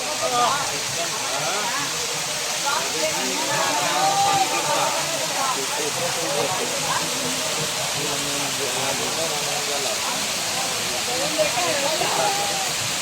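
Hillside waterfall on a rocky trail to Gupta Dham, a steady broad rushing hiss of falling water throughout, loud and continuous, with voices talking faintly beneath.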